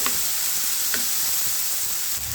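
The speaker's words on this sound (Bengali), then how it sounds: "আলুটা এখন খুব সুন্দর করে একটু লাল লাল করে ভেজে নেব" Potatoes fry in a pan with a steady, loud hiss of hot oil, a couple of faint ticks rising briefly from the continuous sizzle.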